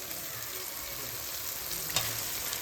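Chicken pieces sizzle in hot oil for a Bengali kosha murgi, a steady low hiss of frying with a brief clatter midway, heard close and fairly faint.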